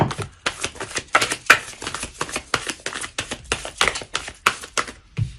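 Tarot cards are drawn and shuffled from a deck, producing rapid, close, crisp flicks and slaps in a steady rhythmic run that fills the whole stretch without talk.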